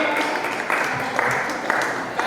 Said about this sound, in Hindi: ये एक बार जोरदार तालियां बजाइए इनके सम्मान में